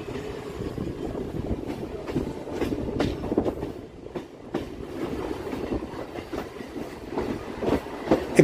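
A train turns left off the line toward Sealdah, a continuous near rumble with scattered wheel clacks and brief squeals on the curve. No voices are heard.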